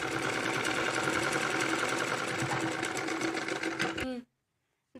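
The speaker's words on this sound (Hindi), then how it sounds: "अब इसके ऊपर खाली सिलाई लगाएंगे" A sewing machine runs continuously, stitching baby dress fabric up close with a fast steady whir and clatter for about four seconds, then stops abruptly into silence.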